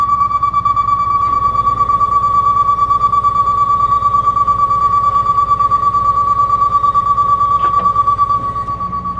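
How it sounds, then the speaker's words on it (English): A Camden fire truck ladder's stabilizing alarm: a steady, loud electronic tone with a rapid pulsing beep, continuous for several seconds before fading slightly at the end, with no voices. "you could hear the stabilizing alarm turn off when it takes weight"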